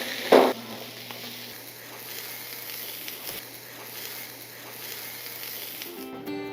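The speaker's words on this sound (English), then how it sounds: "Add garlic and zucchini and cook until warm." Garlic and zucchini cook in an oiled skillet with a soft, even sizzle that stays low and steady throughout, opening with a brief louder clatter.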